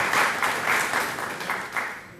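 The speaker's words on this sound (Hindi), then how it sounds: "ताली बजाइए उनको लिए जो वो चला रहे हैं।" An audience at a talk gives a round of applause, a moderate clatter of many hands clapping in a thick patter that gradually fades.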